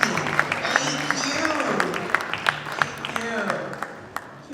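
An audience claps at an event, the sharp scattered claps rising and thinning under a person speaking over them.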